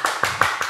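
Hands clap four times in a brisk, even rhythm, close and sharp with nothing else around them.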